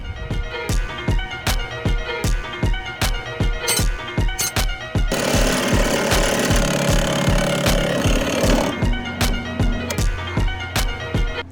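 A hammering power drill pounds in a fast regular rhythm, then bores steadily for a few seconds before the pounding resumes, loud and close, drilling holes in an electric bobber motorcycle.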